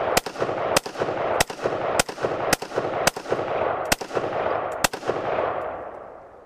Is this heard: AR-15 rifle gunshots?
yes